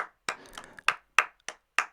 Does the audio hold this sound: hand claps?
yes